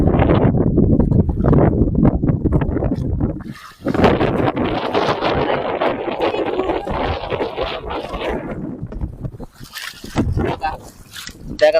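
Strong wind roars and buffets the microphone almost continuously, with water sloshing and a voice now and then breaking through the gusts.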